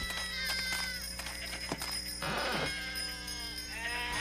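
Sheep bleat several times in overlapping calls, close and fairly loud, over a steady background hum with no talking.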